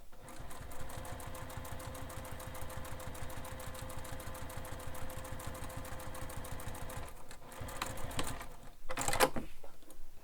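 A sewing machine top stitches a handbag in a steady rapid run of needle strokes, close and clear, then pauses and gives a few short bursts before stopping.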